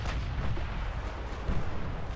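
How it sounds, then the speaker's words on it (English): Naval gunfire and explosions in the Ultimate Admiral Dreadnoughts warship game, heard as a dense, continuous low rumble of blasts and booms that swells slightly near the end. "Repeat of explosion."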